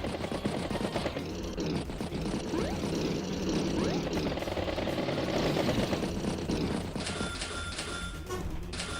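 Bomber aircraft attacking on a battlefield in the Advance Wars strategy game: a steady propeller drone under a dense, continuous run of rapid gunfire-like bursts and booms, loud and unbroken throughout.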